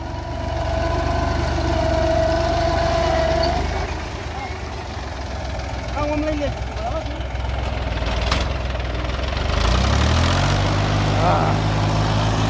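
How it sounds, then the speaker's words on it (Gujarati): An old Mahindra 365 DI tractor engine with trolley runs steadily with a low, chugging rumble, then revs up near the end as its pitch climbs. "આ ટ્રેક્ટર ખૂબ જ જૂનું ટ્રેક્ટર અને સારામાં સારું ટ્રેક્ટર છે"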